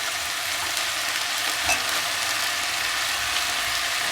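Chorizo sizzles and crackles steadily in a skillet with browned onions and peppers, a dense, even frying hiss close up with no voices.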